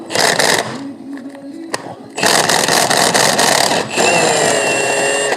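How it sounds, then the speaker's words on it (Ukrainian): An impact wrench loosens stubborn bolts on a Fiat Ducato-type van with a 2.0/2.2 engine, firing in loud close bursts of harsh hammering rattle separated by short pauses, with someone speaking briefly. "Дорослий гайковерт ледве справляється з такими з такими болтиками."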